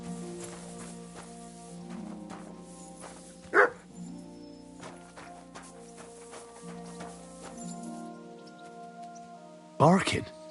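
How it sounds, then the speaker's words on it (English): Dog barking in the medieval video game Kingdom Come Deliverance 2, two short loud bursts standing out over steady game music and ambient rain, one near the middle and one near the end. "Barking?"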